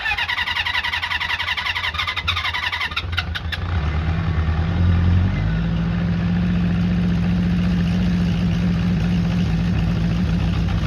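A classic Honda CB400 Four motorcycle being started on full choke: the starter whirs for a few seconds, then the engine catches and settles into a loud, steady, slightly lumpy idle, heard close with no talk.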